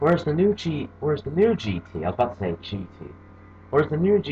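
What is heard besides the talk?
None of the usual background noises is heard.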